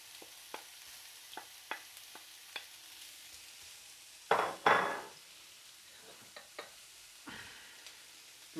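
Bell peppers tossed into a very hot pan on high heat give a loud rushing sizzle partway through, amid scattered clicks and scrapes of stirring against the pan.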